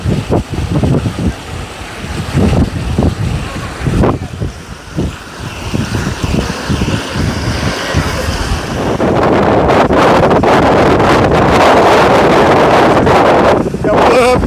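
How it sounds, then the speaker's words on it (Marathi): Strong wind roars into the microphone at Madhe Ghat, building to a loud, steady rush in the second half, with splashing water and gusty buffeting throughout. "वाऱ्याचा वेग जास्त आहे"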